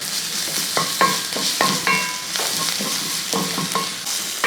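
Ginger-garlic paste frying in a pan for Kerala fish masala is stirred with repeated scraping strokes over a steady, close sizzle, with no voices.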